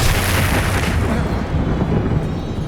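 The Expelliarmus spell cast in the game Hogwarts Legacy lands as a loud, dense magical burst that sweeps across the whole range, then a rumbling wash that fades slightly toward the end, with no talk over it.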